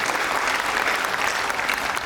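A crowd at a Hindi kavi sammelan gives loud, sustained applause, many hands clapping together close and steady throughout with no one speaking.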